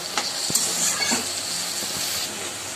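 Spice masala fries in a pan for a chal kumro shaak dish, giving a steady, moderately loud sizzling hiss broken by a few scraping stirs, with no talk.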